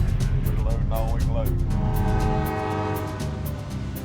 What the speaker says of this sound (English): a 100-car coal train pulls out of Asheville